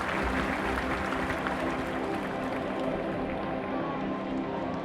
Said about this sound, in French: Elle l'applaudit à tout rompre.